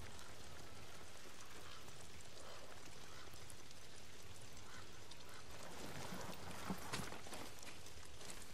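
Steady rain falls in Ghost of Tsushima, a dense constant patter on the ground with no voices, plus a couple of louder splashes near the end.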